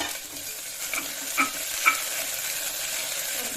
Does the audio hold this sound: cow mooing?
no